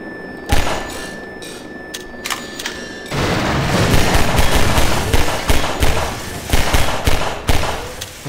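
Gunfire in the video game Half-Life 2, with a few isolated booming shots followed by a dense, continuous burst of rapid fire and impacts, loud and close, with a steady tone humming underneath.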